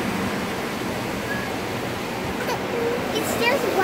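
An automatic car wash machine sprays water onto a car in a constant hissing rush, filling the space closely and growing slightly louder toward the end, with a faint high voice near the finish.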